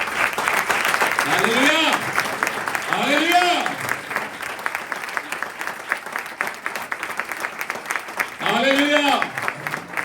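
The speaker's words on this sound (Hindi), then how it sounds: "आओ फिर अपने बब्बर की तालियां बजाएं" A church congregation at a Hindi-Urdu sermon applauds in loud swells, with voices chanting in between the bursts of clapping.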